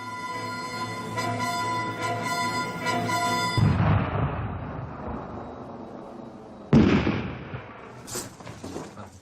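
A dynamite blast in a turquoise mine sounds as a deep rumbling boom after a steady tonal hum, followed by a second sharp, loud burst and rolling echoes.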